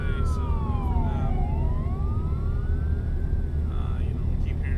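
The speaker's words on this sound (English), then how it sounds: "we keep hearing sirens randomly" A police siren wails with rising and falling sweeps in a cross-country driving video game, heard under a steady engine and road drone, with some talk in the background.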